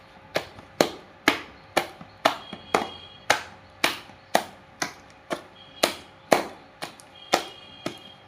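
Palm fritter batter beaten by hand in a bowl gives a string of sharp slapping strokes, about two a second, in a steady close rhythm with no talking.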